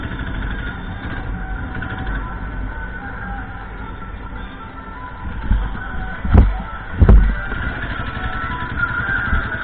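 An old 1998 Royal Enfield Bullet motorcycle with a CI engine rumbles steadily while being ridden on the road, a constant close engine drone with a couple of loud thumps midway.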